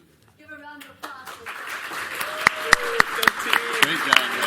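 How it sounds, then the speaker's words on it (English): Audience applause at a panel event on responsible uses of AI, building from scattered claps into a steady room-wide clapping, with a voice over the start and a few sharp, close claps standing out. "Give her a round of applause."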